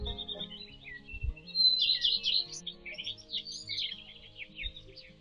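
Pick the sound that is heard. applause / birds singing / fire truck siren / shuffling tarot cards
birds singing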